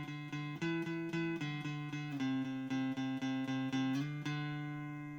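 An electric guitar picks the separate notes of a double stop one after another in a steady, even rhythm, each note sustaining into the next, close up with no voice.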